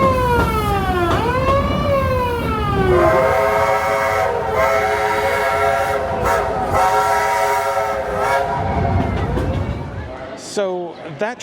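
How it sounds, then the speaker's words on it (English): A haunted train ride runs during Halloweekends at Cedar Point amusement park. Loud horn and whistle-like tones sweep up and down in pitch almost continuously, with people's voices mixed in and rumbling ride noise beneath. "This train ride is incredible."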